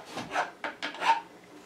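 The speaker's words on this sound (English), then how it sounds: "you kind of got to learn to do a little snap filing" A metal file rasps across guitar frets during a fret leveling and dressing job, four short scraping strokes in quick succession, close and fairly quiet, with no talk.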